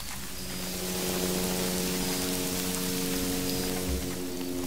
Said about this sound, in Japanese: 雨が降ってきたんで